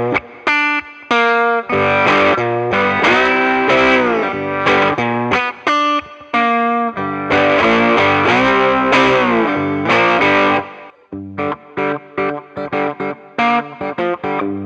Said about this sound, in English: Now let's add some reverb.